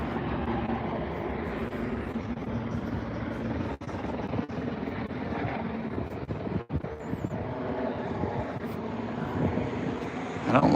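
A helicopter flies overhead during a walking tour in Victoria, Canada, its rotor and engine a continuous loud rumble with a few brief dips, filling the whole stretch of street ambience.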